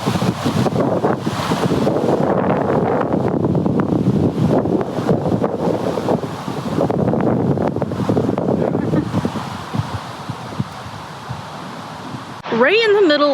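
Strong gusty wind buffets a microphone outdoors in suburban Kennewick, Washington, a steady broadband roar lasting throughout, easing slightly near the end before a brief voice breaks in.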